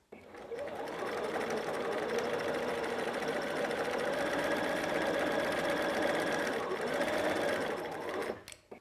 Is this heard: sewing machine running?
yes